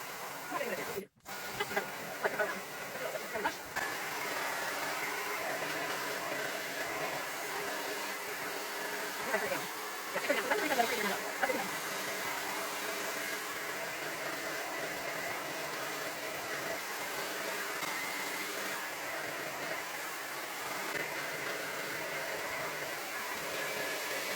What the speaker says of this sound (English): this amazing high-speed hair dryer